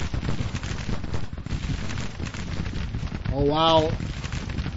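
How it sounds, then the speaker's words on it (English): Civil War battle gunfire from the Grand Tactician strategy game, a dense ongoing crackle of musket volleys rolling through the whole stretch, with a voice talking over it. "Burbridge is taking some flanking fire."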